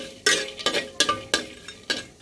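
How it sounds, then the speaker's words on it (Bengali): Mixed vegetables being dry-fried in a pan for a vegetarian dish, heard as five sharp scraping, clattering strokes of a spatula against the pan at a steady rhythm, close and fairly loud with no one talking. "এটা শুকনো করে ভেজে নিচ্ছি।"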